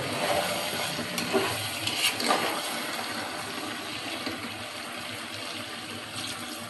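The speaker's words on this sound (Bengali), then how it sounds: "এখন আমি পানি দিয়ে দিব, একটু পানি দিব, বেশি না।" Beef curry simmering in a pan with water added after long frying of the meat and spices, a steady close hiss and bubbling with faint clinks, no talk.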